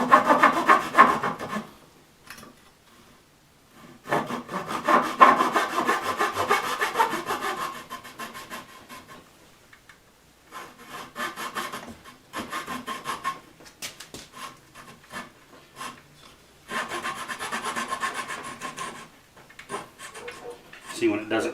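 A hand saw cuts through a wooden dowel in rhythmic back-and-forth rasping strokes, loud and close, coming in several long bouts separated by brief pauses.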